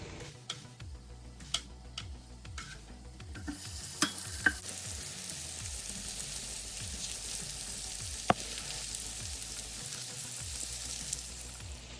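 Slices of Beyond Meat original sausage fry in a pan, with a soft, steady sizzle that rises partway through and is broken by scattered light ticks and taps of a utensil.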